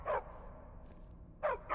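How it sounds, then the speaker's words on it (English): A dog in Skyrim gives two short, faint barks about a second and a half apart, with quiet background between them. "Stupid dog."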